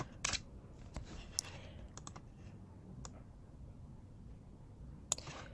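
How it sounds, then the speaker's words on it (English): Sparse keystrokes on a computer keyboard tap out a short word in a quiet room, a few separate clicks spread unevenly over several seconds, close and fairly soft. "I'm going to hit T on my keyboard and I'm going to type email."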